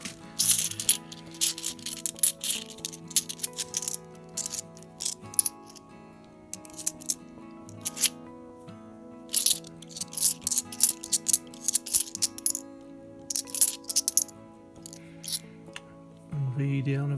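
A bag of £2 coins is opened and the coins rattle and clink together repeatedly in bursts, close and fairly loud, with bright metallic jingling throughout.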